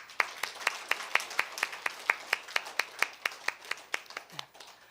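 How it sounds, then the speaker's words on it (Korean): A church congregation claps together in a steady, even rhythm, about twenty sharp unison claps in under five seconds that are moderately close and fade out at the end, with no talking. "우리를 구원하신 하나님께 영광의 박수 한번 올려드리겠습니다."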